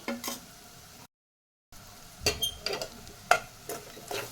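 Beetroot fry with chili powder is stirred in a pan: a low crackle of frying under a series of sharp spoon knocks and scrapes, briefly cutting to silence midway.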